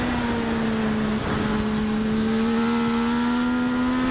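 Legends race cars run at Magic Valley Speedway, heading into turns 3 and 4, with a loud, continuous engine drone whose pitch climbs gradually.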